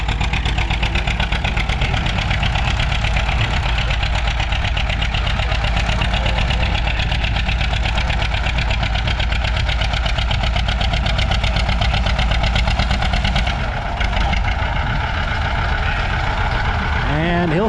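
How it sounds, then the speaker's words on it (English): John Deere 70 tractor pulling in the 8,000 pound 3 mph class at a fall tractor pull, its engine running loud and steady throughout, with a shift in tone near the end as it winds down. "one of my favorite tractors, the John Deere 70,"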